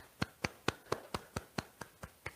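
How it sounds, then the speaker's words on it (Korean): A single person claps slowly and evenly, about ten separate claps over a couple of seconds, close and fairly quiet, during a Korean sermon on repentance when listeners are invited to applaud themselves. "내 자신에 대해서 감사의 박수 한번 칩시다."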